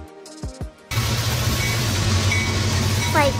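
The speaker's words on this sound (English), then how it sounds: "Freight trains transport goods using various specialized cars" After a short tonal voice-like sound, a freight train's dense, loud rumble takes over and holds steady, with faint squealing wheel tones rising near the end.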